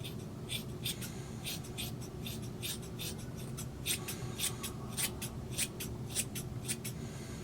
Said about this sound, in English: I'm just gonna cut it with some scissors